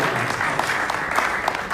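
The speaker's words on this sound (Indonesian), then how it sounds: "Tepuk tangan bersama" Brief burst of audience clapping at a youth revival service in a Jakarta church, dense and continuous throughout with a few sharper claps standing out.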